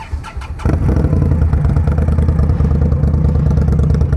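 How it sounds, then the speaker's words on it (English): A cruiser motorcycle engine fires up after a brief crank, then rumbles loudly with a deep, throbbing idle and revs close by. "a real motorcycle, a real engine, right? Flick the wick here. It's really loud."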